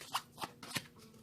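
Oracle cards are shuffled by hand in a quiet room, giving four soft, quick riffling swishes in an uneven rhythm, close and faint.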